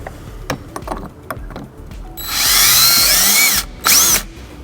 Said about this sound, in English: we're gonna go ahead and get some holes drilled for our hardware